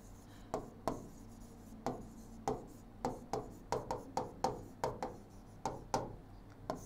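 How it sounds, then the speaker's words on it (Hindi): Chalk or marker writes a line of text on a board as a run of short, rhythmic scratching strokes with brief pauses between words, close and fairly quiet, with no talking. "जैसे मैं लाइन लिख रहा हूं"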